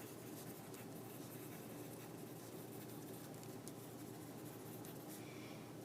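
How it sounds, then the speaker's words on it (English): Pen or pencil writing quickly by hand on paper, a steady close scratching that runs continuously under faint background noise, with no talking. "I'm going to write fast for time's sake"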